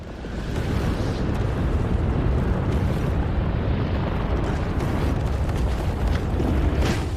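Massive nuclear explosion effect from a film: a continuous, heavy roaring rumble that swells in and holds steady at full loudness for several seconds, with no voices.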